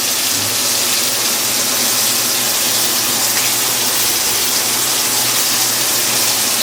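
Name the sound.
chopped onions added to the pan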